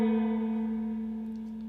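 A single sustained electric guitar note on a Gretsch, already bent before picking and then released, its pitch sliding gently downward as it rings out alone and slowly fades.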